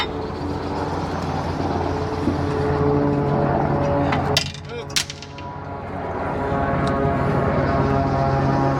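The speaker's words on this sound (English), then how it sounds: "Going overhead. Coast Guard helicopter and a prop plane." A Coast Guard helicopter and a propeller plane pass overhead, making a continuous droning hum with steady engine tones that swells and lingers throughout, with a couple of brief knocks nearby.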